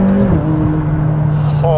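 McLaren 570S supercar engine droning steadily while driving, a loud close humming tone with slight pitch shifts, recorded from inside the car.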